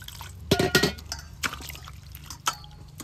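A palm fruit is washed in a basin of water, with several splashes, sloshes and light clinks arriving in separate bursts over a low, steady background hum.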